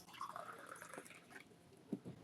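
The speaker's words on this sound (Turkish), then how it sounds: "Ardından canlanmış olan suyumuzu dolduruyoruz." Alkaline water with pH drops is poured into a drinking glass, a faint close trickle with a few soft drips and clinks, very quiet and without speech.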